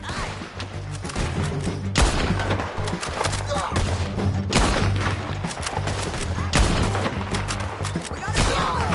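Rapid gunfire fills a dense, loud battle in the video game Red Dead Redemption 2, with shots and impacts piling up into nearly continuous noise throughout.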